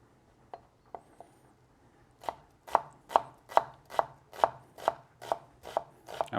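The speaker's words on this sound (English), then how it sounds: "together with the pork belly, we're just going to chop it up finely." A knife finely chops onion and pork belly for Swedish kroppkaka potato dumplings: a few scattered taps, then a steady run of about a dozen crisp, evenly spaced chops, close and clear.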